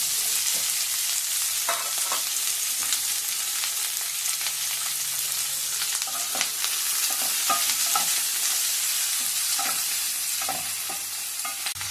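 Onions fry in hot oil as stuffing for capsicum, giving a constant close sizzle throughout with scattered light scrapes and taps of stirring, and no voices.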